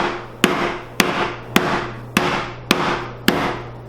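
A wooden sledge hammer pounds duck meat flat, six sharp, evenly spaced thuds about half a second apart, each ringing briefly, close and loud with no talking.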